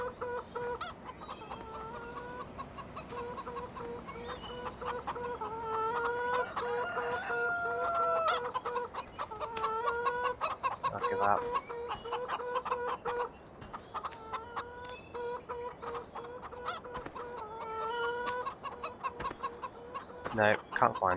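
Chickens cluck and crow repeatedly in Farming Simulator 2015, a busy barnyard chorus of rhythmic clucks and longer calls running throughout at moderate volume, with a louder squawk near the end.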